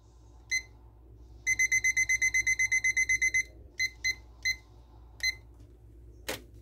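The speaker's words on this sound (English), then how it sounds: "Now, we're going to set the timer for 20 minutes." Kitchen timer beeping while squash cooks in an oven: a single chirp, then a fast run of about a dozen even electronic beeps, followed by a few spaced beeps, clear and close over a quiet room hum.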